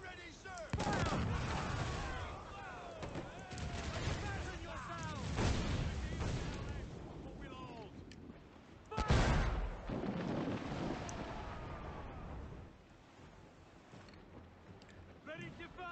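Mortar fire from the pirate ship game Assassin's Creed 4: Black Flag, with heavy booming blasts and a rumbling swell of naval battle noise, one especially loud burst partway through, while people talk over it.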